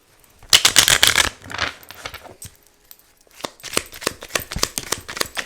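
Message cards being shuffled by hand, a loud riffling flurry up close followed by softer, intermittent card slaps and ruffles in irregular bursts, with no voices.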